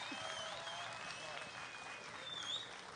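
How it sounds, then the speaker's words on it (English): Crowd applause and cheering at a live esports match between WhiteRa and Ret, a steady wash of clapping that holds throughout with a voice talking over it. "And the crowd goes wild"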